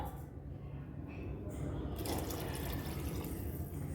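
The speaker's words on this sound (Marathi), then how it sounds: "एक डब्बा मी पाणी घालते" Water pours steadily into a pot of rice for masale bhaat with a soft, continuous splashing hiss, close and fairly quiet.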